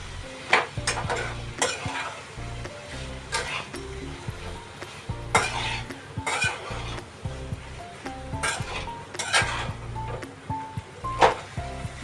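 Eggplant sizzles in a hot pan over a high gas flame, with repeated scraping stirs of a spoon against the pan in irregular bursts over the steady frying hiss.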